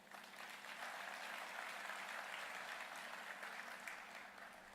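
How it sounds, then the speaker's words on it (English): An audience at a community address applauds in a steady, sustained wash of clapping, heard from a distance, which gently fades at the end. "Please give them applause."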